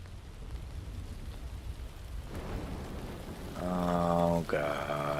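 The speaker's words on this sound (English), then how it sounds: "Now it's raining." Steady rain falls in a video game, a soft continuous hiss with a low rumble beneath it, while someone talks over it toward the end.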